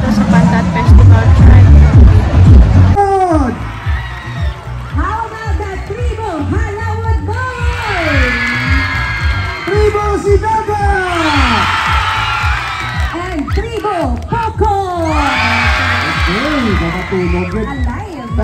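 Festival crowd at an awarding ceremony in Zarraga cheering, whooping and clapping, a loud dense burst at the start settling into sustained mixed shouts and babble over a steady applause wash.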